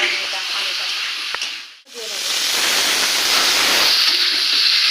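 Fish roe coated in salt and turmeric fries in a pan with a loud, steady hiss and sizzle that briefly drops out, then returns full and bright with faint clinks.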